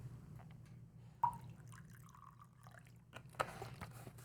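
Water poured into a container for a home mixture experiment, a faint splash and trickle with a few drips and a small clink near the end, quiet and close.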